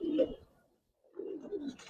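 Racer pigeons coo in a loft, with two soft, low, rolling bursts of cooing around a pause in the middle, close and fairly quiet.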